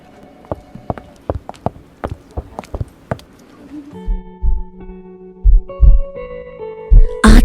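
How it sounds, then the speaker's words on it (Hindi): A heartbeat sound effect thumps in a quick, steady double-beat rhythm, then slows to heavier, spaced thuds over a low sustained hum. "आज सालों बाद मैंने साहबजादा की धड़कनों को सुना है।"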